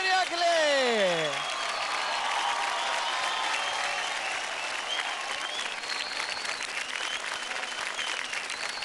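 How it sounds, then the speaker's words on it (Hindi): A studio audience for a children's dance competition claps loudly and steadily, the dense applause continuing without a break while a show presenter's sung or spoken voice slides in over the opening. "Come on, guys, जोरदार ताली हो जाए"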